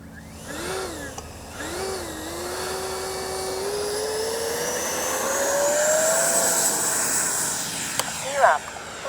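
A Freewing Red Hawk T1 70mm electric ducted-fan RC jet spools up with a rising whine and rushes away on takeoff, loud and steady for several seconds before fading, with a brief click near the end.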